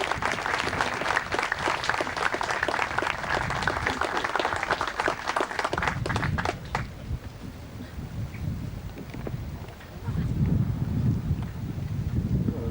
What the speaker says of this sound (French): Un petit applaudissements.